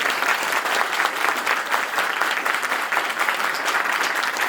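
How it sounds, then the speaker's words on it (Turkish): A crowd at a Çekmeköy Sevenler Platformu gathering in Turkey breaks into loud, dense applause that holds steady and full for the whole stretch, with no pause or fade. "Böyle güçlü bir alkış."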